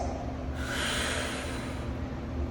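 A single strong, breathy exhale during a core workout pushes out close to the mic, rising sharply and then tapering into a long airy rush.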